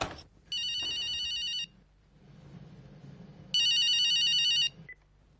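A telephone rings indoors in two separate electronic bursts, each about a second long with a gap between, before a call is answered in a Hindi TV drama household scene; a low room murmur fills the pauses.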